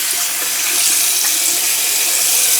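Hot tap water runs steadily into a bathroom sink before a wet shave with a Rockwell 6S safety razor, a constant close hiss filling the whole stretch with no talk.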